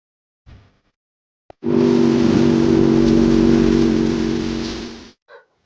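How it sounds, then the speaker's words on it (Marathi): A Yamaha RX100 motorcycle engine revs in one loud, sustained burst lasting about three and a half seconds, with brief short knocks just before and after it. "त्या बाईकचं नाव आहे हा आर एक्स हंड्रेड"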